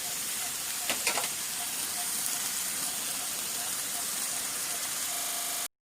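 Chicken with stink beans and red curry paste sizzles in a hot pan, a steady loud hiss of frying throughout with a few brief clinks of stirring near the start.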